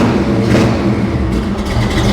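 Supercharged blower engine on a high-powered car revving close by, a loud continuous low rumble with rising throttle surges and a steady mechanical whine, the motor still cold.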